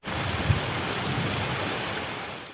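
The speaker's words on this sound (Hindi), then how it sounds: "सुबह सवेरे इस्लामाबाद में काले गहरे बादल छाए और तूफानी बारिश का सिलसिला शुरू हुआ।" Stormy rain pouring down in Islamabad under dark clouds, with hail mentioned alongside it, a dense, steady wash of noise that holds at a constant level throughout with no voices.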